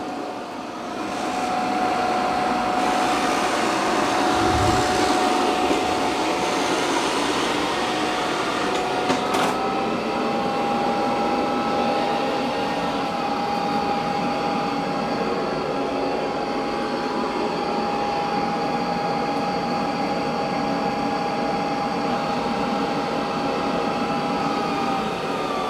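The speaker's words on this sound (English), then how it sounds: "it's doing a good job of vacuuming." A Eufy robot vacuum-mop cleaning a floor gives a steady, continuous whirring hum with a faint high whine, running unbroken throughout, with a brief thump near the start.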